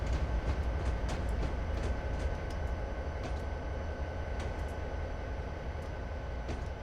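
A freight train climbing Cajon Pass makes a steady, dense rumble with faint wheel clicks and clatter ticking through it, with no gaps.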